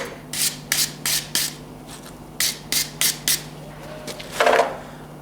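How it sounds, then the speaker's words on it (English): A wire brush scrubs forging oxide off a freshly forged medieval-style iron arrowhead in a series of short, close, raspy strokes, several in quick pairs, with a longer final scrub. "just a wire brush, just to get off any of the oxide that's been left from the forging process"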